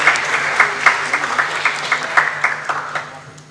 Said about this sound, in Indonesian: Boleh beri tepuk tangan yang meriah, Bapak Ibu.